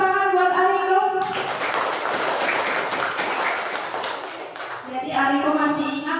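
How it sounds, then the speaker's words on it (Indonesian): Classroom applause for a student: a burst of many hands clapping fills the middle of the clip, with a speaking voice before and after it. "beri tepuk tangan buat Ariko"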